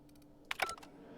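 A brief, quiet flurry of keyboard typing in the video game The Outer Worlds: a few soft clicks, then a quick cluster of sharper keystrokes, fading into a faint background hum.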